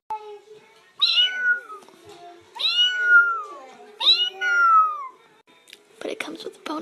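A voice imitates a cat, drawing out three rising, whiny meows one after another, followed by a short burst of breathy noise.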